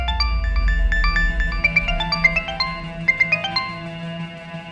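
A phone ringtone playing a bright repeating electronic melody for a call from a hospital, clear and alone over a low background hum.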